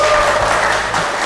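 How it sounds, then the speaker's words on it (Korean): An audience at an outdoor park book concert in Seoul claps loudly to welcome the author, a dense, close burst of applause that carries on without talk. "큰 박수 부탁드립니다."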